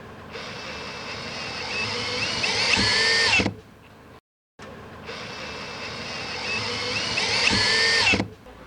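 A power drill with a bit extension whines twice in long bursts, securing the top anchor tab during a BAL Exact-Slide motor replacement, rising in pitch under load and cutting off abruptly, with a short silent gap between runs.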